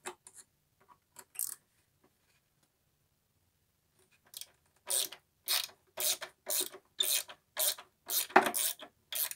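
A ratchet screws parts of a homemade skateboard together, a few faint clicks at first, then a steady run of loud, rhythmic ratcheting strokes close by.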